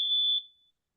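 A phone alarm gives a single short, loud, steady high-pitched beep, cut off quickly, followed by a fading tail and then silence.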